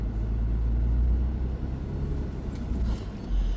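A car engine rumbles low and steady on a rough road while it creeps near a hole with the brake and gas held together, swelling slightly near the end.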